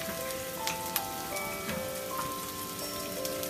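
Onions frying in a pan for Hakka chilli gobhi give a steady, close crackling sizzle with a few sharper pops scattered through it, and no voices.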